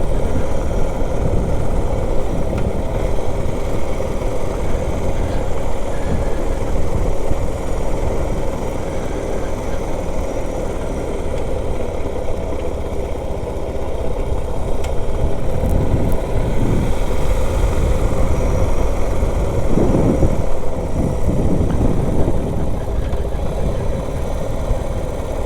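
A Suzuki DR650 motorcycle engine hums steadily while riding slowly, a continuous low rumble with wind noise, close and fairly loud throughout.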